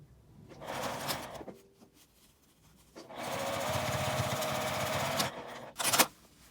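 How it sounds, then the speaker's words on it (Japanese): A sewing machine stitches a zipper pen case with a 1 cm seam allowance, running in two steady bursts of mechanical whirring separated by a quiet pause, ending with a short sharp clunk. "こちらとこちらを1センチの縫い代で縫います。"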